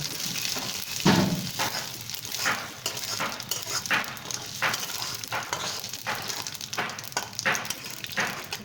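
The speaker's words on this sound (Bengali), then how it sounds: "পোস্তটা হালকা লাল লাল করে ভেজে নেব।" Two tablespoons of poppy seeds frying in hot oil in a wok over lowered flame, a soft continuous sizzle with periodic stirring scrapes, fairly quiet and close, with no talking.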